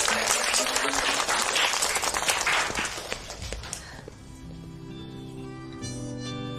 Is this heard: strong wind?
no